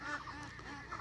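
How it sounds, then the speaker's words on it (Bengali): Pekin ducks on a farm give a brief burst of faint, nasal honking quacks close together, lasting about a second. "আপাতত এগুলো পেকিং জাতের হাঁস"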